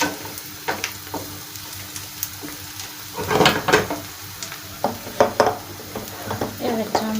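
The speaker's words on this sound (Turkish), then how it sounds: "Sonra içine salça atıp onu da kavuracağım." Tomato paste sautéing in a pan for a Black Sea cabbage dish: a low steady sizzle runs beneath bursts of a spoon scraping and clattering against the pan, close by, with stirring strokes growing busier partway through.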